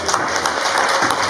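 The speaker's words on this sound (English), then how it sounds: "So let's clap it up for Joanne." Audience applause at an open mic night, a steady wash of clapping from a crowd filling the room, continuous and fairly loud throughout.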